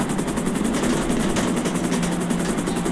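Helicopter in the video game GTA 5, a loud continuous rotor and engine roar with a rapid pulsing chop, steady and close throughout without talk.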